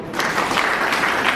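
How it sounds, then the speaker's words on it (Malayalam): Audience applause fills a meeting hall, a steady dense clatter of many hands clapping without pause. "അവർക്ക് ക്ലാപ്പ് കൊടുത്തു."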